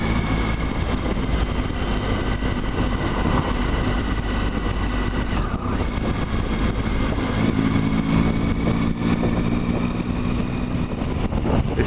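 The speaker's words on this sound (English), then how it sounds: "This big old bike may not have the agility and the raw acceleration of the street trick, but it certainly scores on comfort, riding position and stability." A Triumph Tiger 1050 motorcycle cruising on a sunny winter ride through English countryside, its engine droning loud and continuous with heavy wind rush across the whole stretch.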